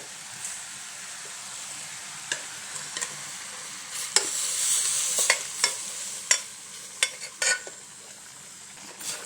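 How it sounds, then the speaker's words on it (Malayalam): Jackfruit seeds being stirred into a homestyle Kerala curry with cucumber and raw mango in a pot, a spoon scraping and clattering at an uneven pace with a soft sizzle underneath, close and moderately loud. "നന്നായിട്ട് ഇളക്കി കൊടുക്കാം"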